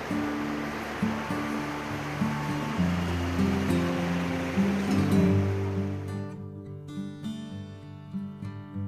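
Ocean surf rolls in steadily beneath a sea-facing hotel balcony in Puri, a continuous broadband wash of breaking waves with a low hum underneath, easing slightly toward the end.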